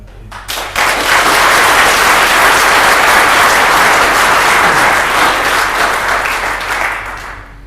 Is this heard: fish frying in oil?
no